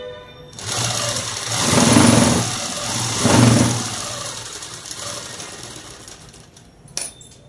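A sewing machine stitches the lining of a prince-cut dress, its motor whirring in two swelling bursts before settling into a quieter run, followed by a short sharp click near the end.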